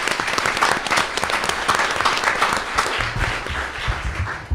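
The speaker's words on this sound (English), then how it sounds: "So let's give them another round of applause." Applause from the audience at a county board of education meeting honoring teachers and students, a dense steady round of clapping from a crowd that carries on for the whole stretch.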